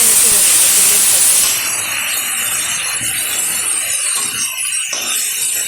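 Washed mutton with fat hitting hot oil in a pan, a loud bright sizzle that bursts in at first and then settles into a steady frying hiss, with a voice talking over it.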